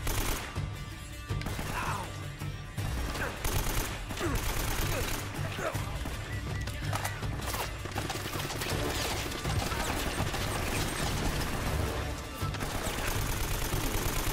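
Turret gunfire in the video game Uncharted, dense sustained bursts of shooting with crashes and explosions, loud and continuous, with a voice talking over parts of it.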